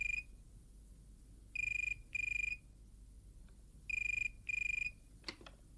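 A telephone rings in two double bursts, each a pair of short electronic trills with a pause between pairs, fairly faint in a quiet room with no talking.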